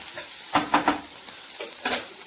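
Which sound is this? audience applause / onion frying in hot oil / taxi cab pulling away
onion frying in hot oil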